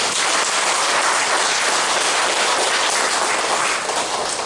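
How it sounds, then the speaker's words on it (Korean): A congregation at a Korean religious gathering gives a round of applause, dense and loud clapping filling the room without a break for several seconds. "박수 한번 보내주시기 바랍니다."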